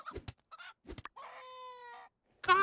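Rooster clucking and crowing in the farming game My Time at Sandrock, a few short clucks followed by a longer drawn-out crow, then another burst at the end, clear with no talk.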